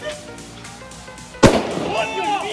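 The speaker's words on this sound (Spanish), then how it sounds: "¡Que se explota ya, loco!" Something swelling and then bursting in a home fire experiment: one sudden loud pop standing out over steady background noise, followed by crackling and a fading hiss.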